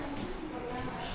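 A passenger train rolls along in South Korea, heard from inside as a quiet, steady rumble with a thin high whine running through it.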